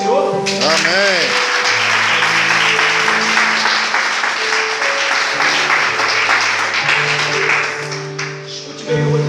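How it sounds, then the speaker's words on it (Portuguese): A church congregation claps together while an organ or keyboard plays sustained chords, the applause a dense, steady rush that fades slightly near the end. "Você pode aplaudir ao Senhor?"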